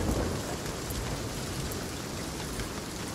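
Steady storm in the pirate game Sea of Thieves, with dense rain pouring on surfaces and wind rushing over a broad, constant wash of noise, no voices.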